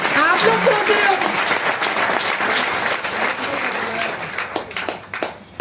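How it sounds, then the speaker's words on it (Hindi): An audience claps loudly and continuously at an RCM business event, a dense roar of applause that gradually thins into scattered claps toward the end, with a voice rising over it. "ताली बजाओ, ताली बजाओ।"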